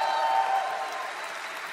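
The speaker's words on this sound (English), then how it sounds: "Big applause for Amway." Applause from a crowd at a motivational talk, a brief burst of dense clapping that fades quickly with a faint tone lingering underneath, heard at moderate distance.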